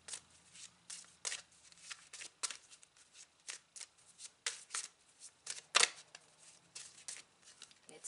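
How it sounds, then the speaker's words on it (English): Tarot cards being shuffled and drawn, with repeated crisp riffles, slaps and flicks of the deck at an uneven pace, close and fairly quiet, with no talking. "I'm going to pull out one final card to close your readings."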